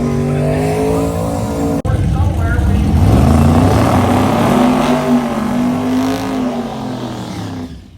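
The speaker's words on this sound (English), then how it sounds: "the first pair of quick car burnouts across the starting line" Drag racing cars at Northern Michigan Dragway do burnouts at the starting line, with a loud, close engine roar and screeching, squealing tires sustained over several seconds, while an announcer talks over it.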